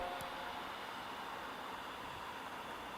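Steady white noise filling a heated yoga studio, a flat, even hiss that holds unchanged throughout, with a faint brief click near the start and no voices.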